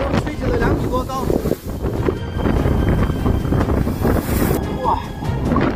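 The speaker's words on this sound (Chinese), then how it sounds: "目前风浪越来越大，台风把那个海浪吹起了2米多高" Strong typhoon wind roars steadily at a seaside park while waves whipped over two metres high crash nearby, a loud, unbroken rush throughout with a brief voice-like sound underneath.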